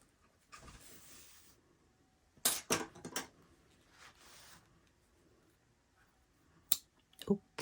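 Beige yarn snipped off on a circular knitting machine, with sharp close clicks and snips clustered in short bursts, a few isolated clicks later, and quiet handling noise between.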